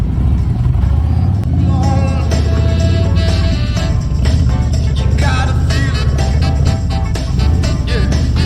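A motorcycle idles and revs at low speed during a tight turning drill with the rear brake held, a steady close engine rumble running throughout while a voice talks over it.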